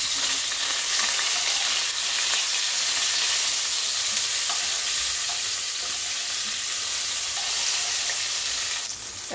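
Steady close sizzling of a green banana curry frying in a pan after a tomato goes in, with faint stirring throughout and no talking.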